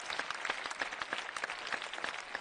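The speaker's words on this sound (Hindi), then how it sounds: "सारा देश एक बार जरा जोरदार तालियां बजाए" Enthusiastic applause from a crowd, dense and continuous clapping throughout, with no voices over it.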